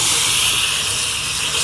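Water poured into a hot pan while squid is frying sends up a loud, steady hiss of steam, close and continuous, with no talk.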